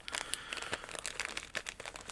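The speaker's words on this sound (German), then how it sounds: "Da hat man in der Tüte für dieses Tecotec-Gehäuse noch eine kleine Tüte." A small plastic bag of spare parts from a Teko Raspberry Pi case being handled, with soft crinkling and rustling close up, steady throughout with brief crisp peaks and no talk.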